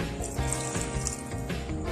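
Water pouring from a tap or container into hopia dough, a steady close splashing and trickling stream that runs continuously for the whole moment with no voices over it.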